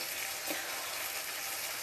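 Steady, even sizzling of food frying in a pan, continuous and close without pauses.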